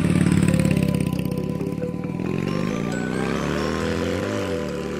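A motorcycle engine running steadily nearby, a loud continuous mid-pitched drone that shifts slightly in pitch, with no talk over it.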